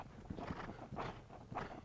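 Horse hooves walking during a riding and gymnastic training session, a steady rhythm of muffled clip-clop footfalls at moderate distance over a soft surface, with low background noise.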